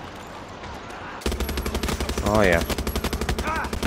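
Sustained automatic gunfire in Far Cry 6, a fast, loud rhythmic burst of rounds that starts abruptly and continues while someone speaks briefly over it.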